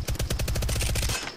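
Rapid automatic gunfire in the Apex Legends video game, a fast even string of about a dozen loud close shots firing continuously before cutting off.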